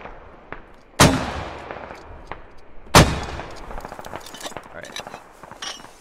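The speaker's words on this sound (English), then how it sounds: "you're about to watch me drop mortars on some people's heads." Mortar rounds fire in the military shooter game Squad, giving two loud, sharp reports about two seconds apart, each fading out over lighter clatter and faint background noise.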